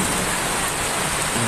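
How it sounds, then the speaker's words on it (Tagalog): Heavy rain pours down during a thunderstorm, a dense, loud, unbroken hiss filling the whole moment with no voices. "Ang lakas ng ulan."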